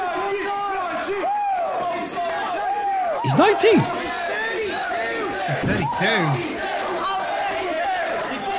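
A wrestling crowd chants and shouts in unison, loud rhythmic calls rising over a steady hubbub of the arena, with a few louder bursts of yelling.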